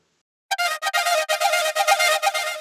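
A synth line with a randomly modulated filter and heavy effects starts after a half-second of silence, then runs as a bright, choppy sequence of stuttering, gated notes.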